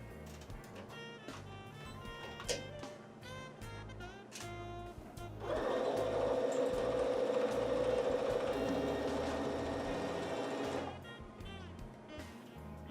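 A home sewing machine stitches fabric for a pair of pants in one steady, even whirring run of about five seconds, with quieter handling clicks and thumps before and after it.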